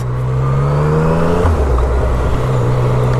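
Yamaha FZ-09 850 cc street motorcycle engine pulling hard in second gear, a loud close roar climbing in pitch, then a quick shift drop and renewed rise, with no talking.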